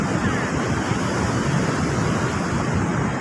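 Water overflows the dam spillway at Mae Mok reservoir, a dense, steady roaring rush with wind buffeting the microphone, continuous and loud throughout.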